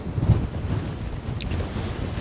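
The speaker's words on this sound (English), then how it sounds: "Still a bit windy." Steady wind gusts buffet the microphone on exposed Cheviot Hill in Northumberland National Park, a low, rumbling roar with no talking.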